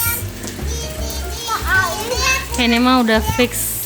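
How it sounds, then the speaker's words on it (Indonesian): Children playing outdoors in the rain, with young voices shouting and chattering at close range over a steady hiss of rainfall. "Mereka lagi pada main hujan"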